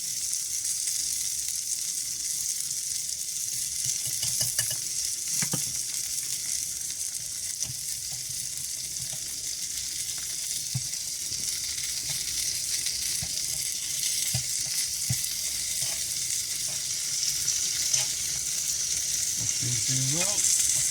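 Mushrooms and venison fry in a skillet, cooked in a van, giving a steady close hiss of sizzling fat with occasional soft stirring knocks and brief crackles throughout.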